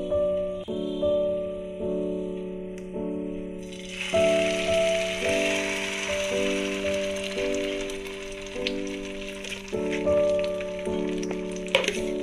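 Egg for a Spanish omelette fries in oil in a pan, a continuous close sizzle and crackle that swells after a few seconds and continues under steady background music.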